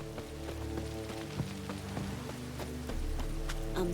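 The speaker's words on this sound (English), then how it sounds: "Didn't look like rain." Rain in The Witcher 3 video game: a steady patter of drops over a low droning hum of game ambience and music, with faint hoof-like clops, continuous and moderately loud.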